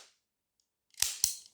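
A toy cap gun from Smyths Toys fires two sharp, loud cracks in quick succession about a quarter second apart, each with a short ringing tail, after a moment of silence.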